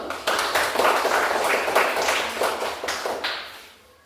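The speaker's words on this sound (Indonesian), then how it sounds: "Tepuk tangan dulu." A fourth-grade elementary class claps hands together, dense close clapping in a steady patter that tapers off at the end.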